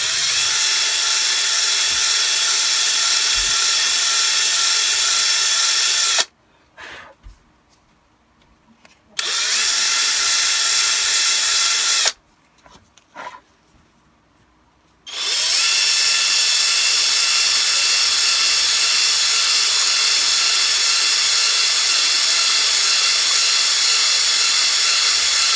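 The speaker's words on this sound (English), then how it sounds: "let me get my screwdriver, my drill ready to just widen these holes a little bit." A loud power drill whirs steadily while widening holes for Chicago screws in a Shadow Trooper armor build, stopping twice for a few seconds of near silence before running again at full speed.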